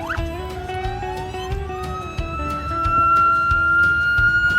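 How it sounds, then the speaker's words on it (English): A wailing mechanical siren on a vintage car in a rally parade winds up in pitch and holds a rising tone, with a rumbling engine underneath, fairly close and loud. "Can we hear your siren again?"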